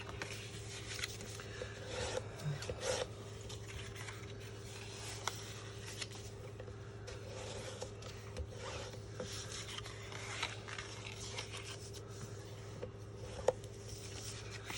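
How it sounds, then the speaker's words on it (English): A bone folder rubs firmly along the score lines of cardstock for a Halloween hand-sanitizer treat box, making continuous close scraping and rubbing strokes over a steady low electrical hum. "I always burnish on all my score lines."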